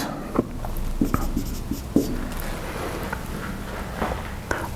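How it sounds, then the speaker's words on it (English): Chalk or marker taps and scrapes across a board during a lecture, a run of brief scratchy strokes with soft knocks, fairly close and alone in a quiet room. "let me write one more thing"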